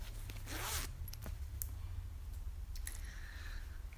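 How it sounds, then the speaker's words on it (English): Zipper on a handmade lined fabric pouch with an orange zipper, a few quick soft zipping strokes and small clicks close by against a low steady background hum, no talking. "Orange zipper."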